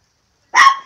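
A single short dog bark breaks out of silence, sharp and close, its tail fading quickly. No talking around it.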